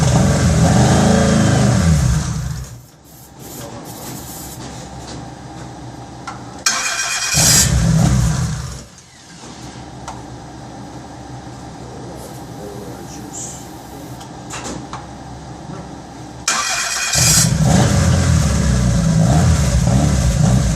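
A 1999 Dodge Stratus with a 2.4 L engine on a school shop floor cranks and starts, revving loudly in bursts that drop back to a steadier running drone between them, with people talking nearby.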